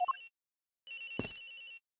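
Cell phone in a video game ringing with a lullaby ringtone: a short rising chime, a brief pause, then a longer electronic ringing tone.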